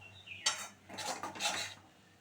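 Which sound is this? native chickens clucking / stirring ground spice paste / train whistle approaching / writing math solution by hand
stirring ground spice paste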